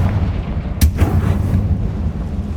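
Confringo fire spell blast in Hogwarts Legacy: a single sharp booming burst followed by a rumbling decay over low ambient game noise.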